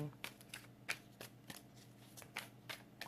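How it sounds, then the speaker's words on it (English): Tarot cards being shuffled by hand: a quiet, close series of crisp papery riffles and soft slaps in uneven bursts, roughly one every half second. "while I'm shuffling"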